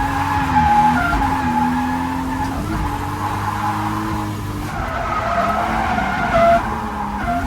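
A drift car is clutch-kicked through a hairpin with sustained tire squeal and skidding, while the engine drones and shifts pitch as power is reapplied, loud and close throughout.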